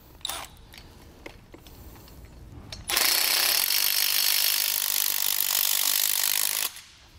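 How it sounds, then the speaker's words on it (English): After a few light clicks and rubs, a tool runs loud and steady for about four seconds, tightening the lock nuts on U-bolts that hold the leaf spring of a Malone MicroSport boat trailer. "And now we'll just tighten everything down."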